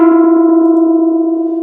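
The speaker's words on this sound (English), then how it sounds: "We can get a little bit more aggressive with hard clip." A single sustained synth note pushed through the hard-clip distortion of the Ripple Delay Pro delay plugin, loud and buzzy with rich harmonics, holding steady and fading slightly over under two seconds, heard alone.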